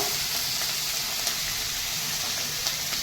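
Freshwater snails fry in hot oil in a pan with garlic, coriander and cumin, giving a soft, even, continuous sizzle with no talking.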